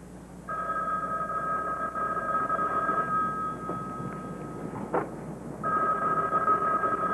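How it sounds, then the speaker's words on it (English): An indoor telephone rings in long electronic trills with a pause in between, fairly clear over a quiet room hum. No one speaks during the rings. "are you going to get the phone or not?"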